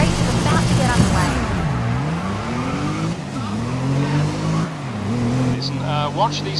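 Race cars in GRID revving at the start of a wet race, engines climbing and dropping in repeated loud upshifting sweeps, with a voice talking over the steady motor roar.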